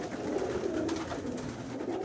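A flock of racing pigeons back in their loft keeps up a steady, low cooing murmur, close and unbroken for a couple of seconds, with no talk.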